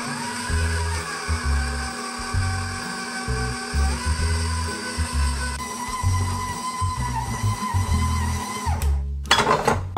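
A stand mixer kneading burger bun dough with salt, sugar, egg and soft butter at medium speed, a loud steady motor whine with rhythmic thumping pulses as the dough slaps around the bowl, stopping near the end.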